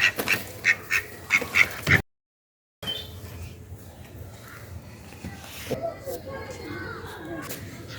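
Several quick, fairly close quacks from domestic ducks come in a burst at the start. After a short silence, a low muddy background with faint movement follows.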